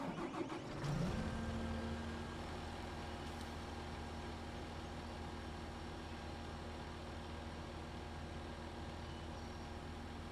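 A sugar beet harvester engine in Farming Simulator 15 cranks and catches, then settles into a steady low idle drone that runs on evenly with no talking.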